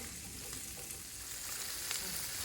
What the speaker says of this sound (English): So here we have our asparagus cooking.